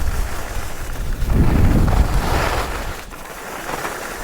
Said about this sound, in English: The wind behind me